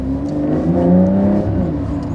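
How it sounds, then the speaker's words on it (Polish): A Porsche engine fitted with a titanium Akrapovič exhaust revs loudly and close by, its steady growl rising and easing slightly, with no talking. "Mamy układ wydechowy jeszcze też zmieniony na taki topowy akrapowicz z tytanu, więc też ten dźwięk jest tutaj podsycony."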